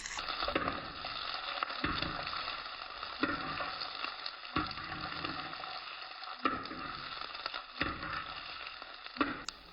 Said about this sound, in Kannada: ಇವಾಗ ಸ್ವಲ್ಪ ಬೆಳ್ಳುಳ್ಳಿ ತೊಗೊಂಡು ಸ್ವಲ್ಪ ಎಣ್ಣೆ ಹಾಕ್ಕೊಂಡು ಫ್ರೈ ಮಾಡ್ಕೊಳ್ಳೋಣ.